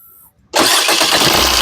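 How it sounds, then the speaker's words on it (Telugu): After a brief quiet moment, the diesel engine of a 2018 Maruti Suzuki Swift VDI AMT cranks and catches at once, settling into a loud, steady running roar. "సింగిల్ సెల్ఫ్ లో కార్ స్టార్ట్ అవుతుంది"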